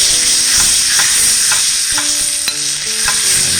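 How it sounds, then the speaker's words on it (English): Filet mignon sizzles loudly in melted butter in a pan, a dense continuous hiss with scattered utensil clicks and scrapes, close and steady. "Now we're gonna put our beautiful filet mignon steak on it."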